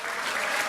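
A brief burst of loud, dense crowd applause at a Liberty Korea Party candidates' launch rally for the June 13 local elections, a full wash of many hands clapping for under a second.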